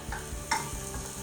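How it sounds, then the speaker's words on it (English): Sliced onions sizzle in hot extra virgin olive oil in a pan, a steady frying hiss with a few stirring scrapes and clicks, close and alone. "As you can hear, it's sizzling."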